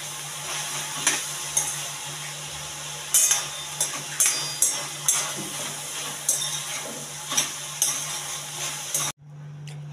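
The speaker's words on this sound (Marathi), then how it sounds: "मी लगेच त्यात घालते अर्धा चम्मच हळद. त्याला व्यवस्थित असं मिक्स करून घेणार आहे." Vegetables with turmeric being mixed in a pan: a steady quiet sizzle with regular scraping strokes and light metallic clinks, ending in a sudden drop to near silence.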